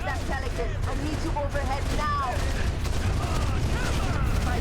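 Dense gunfire rattles through a Halo speedrun, with rapid bursts and bright weapon tones blending into a continuous battle din while a voice talks over it.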